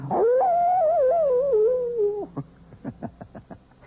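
A wolf howls close and loud in a single long, wavering rising-and-falling cry, then breaks off into a short series of yips and whimpers.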